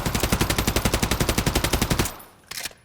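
An AN-23 Abakan rifle in Call of Duty Modern Warfare III fires a loud, sustained automatic burst of evenly spaced rapid shots for about two seconds, then stops, followed by a short rattling clatter.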